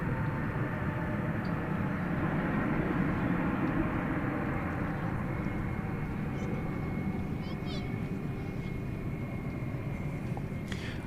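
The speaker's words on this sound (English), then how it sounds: "Volaris Flight 800 from Mexico City, Airbus A320neo" A Volaris Airbus A320neo from Mexico City at DFW Airport at night produces a steady, moderately loud engine rumble that eases slightly partway through, with someone talking over it.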